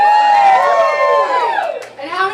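Crowd at a state senate campaign kickoff in Arlington breaks into a loud burst of overlapping shouts and whoops, tonal and jumbled, with a second surge at the end.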